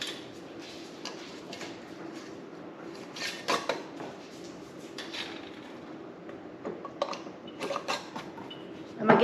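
Metal canning rings being screwed finger tight onto jar lids filled with homemade chicken broth, giving soft creaks, ticks and light metallic clinks in an uneven rhythm, close and fairly quiet against a low kitchen hum.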